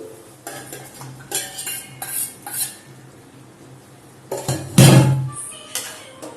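Pork is stirred into frying masala in a pan, with a metal spoon scraping and clinking against the pan in irregular bursts over a faint sizzle, louder near the end.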